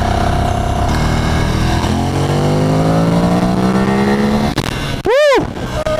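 Ducati Streetfighter track bike engine on a first ride, revving hard with rising pitch through the gears, loud and close, then a sudden sharp throttle blip and wind rush near the end.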